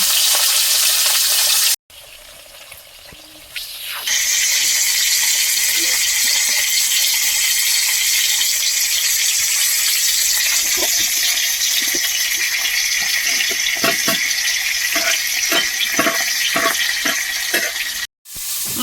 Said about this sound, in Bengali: কড়া অনেক গরম হয়ে গেছে গরম করাতে মাছ না দিলে মাছ কিন্তু অনেক সময় ফলটা উঠে যায় সেই জন্য মাছটা আমি ভেজে নেবো এখন